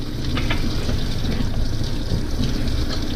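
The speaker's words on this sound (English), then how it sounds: "Put a little water in my French press." Water from a kettle pours into a glass French press during coffee cleanup, a steady close splashing fill lasting the whole moment with no talking.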